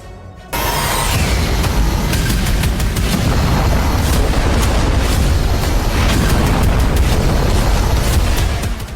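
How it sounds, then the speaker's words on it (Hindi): A loud, sustained roaring blast from a concrete-penetrating bunker-buster bomb exploding underground in Yemen, rumbling with dense low-end energy and crackling bursts throughout. "कंक्रीट की दीवार को भेदने वाले ये बम जमीन के नीचे जाकर जोरदार धमाका करता है।"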